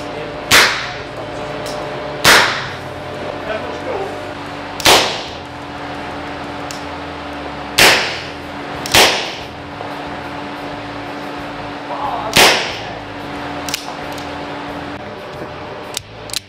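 Repeated shots from a Keserű Onesta DAO gun, about eight sharp cracks spaced irregularly a second or two apart, each loud and close with a short decaying tail over a steady background hum.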